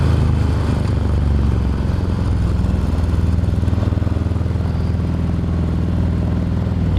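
A Harley-Davidson motorcycle riding over Putney Bridge in London: a steady, throbbing low engine rumble close by, running continuously without pause.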